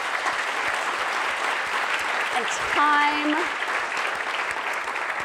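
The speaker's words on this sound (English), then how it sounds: "I'd like to just give them a round of applause for all the hard work" Sustained applause from a conference audience for the presenters, a steady dense wash of clapping filling the whole stretch, with a brief spoken phrase over it partway through.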